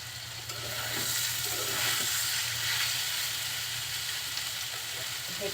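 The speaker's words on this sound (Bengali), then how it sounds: "কিছুক্ষণ নাড়াচাড়া করে একটু ভেজে নেব।" Mixed winter vegetables seasoned with panch phoron fry in a pan while being stirred, producing a continuous, fairly loud sizzle with occasional scraping.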